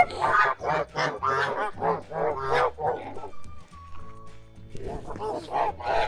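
A loud flock of Kholmogory geese honking and cackling, interleaved with a person talking nearby; a dog may bark among the birds.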